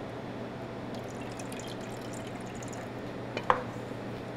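Red wine vinegar is poured into a bowl with mustard and garlic for a vinaigrette, a faint, soft liquid trickle with a small splash and drip near the end over quiet kitchen background.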